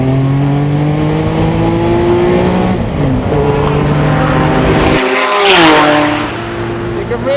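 A Porsche 962C turbo race car roars loudly as it drives on track, its engine note climbing and shifting steadily, with a burst of rushing noise partway through and talk underneath.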